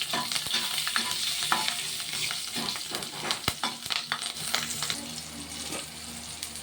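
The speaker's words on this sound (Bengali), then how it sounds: "এবারে কাঁচা লঙ্কাগুলো হালকা করে ভেজে নিচ্ছি।" Green chillies fry in hilsa fish oil with black cumin seeds. The pan gives a close, crackling sizzle, broken by scraping stirs and light utensil clinks throughout.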